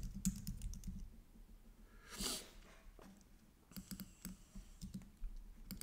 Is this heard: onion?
no